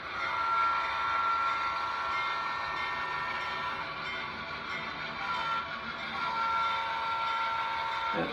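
An HO scale model train horn sounds in a long sustained blast, steady and moderately loud across the whole stretch, with a faint rumble of the model railroad beneath and no talking.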